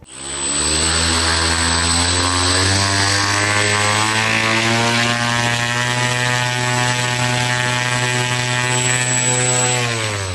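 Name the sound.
passenger drone flying taxi in flight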